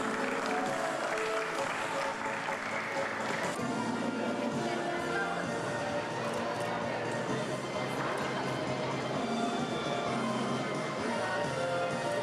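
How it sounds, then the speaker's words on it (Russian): Steady, moderately distant applause from a crowd honoring a winner at a sports award ceremony, continuous clapping sustained throughout with murmuring voices mixed in. "Аплодисменты победителю."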